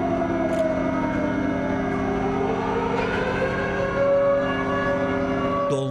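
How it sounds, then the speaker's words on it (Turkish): Civil defense sirens sound across Turkey during the annual Atatürk commemoration, a steady sustained wail with layered drifting tones filling the whole stretch, no talk over it. "Sirenler o an için çalmaya başladı."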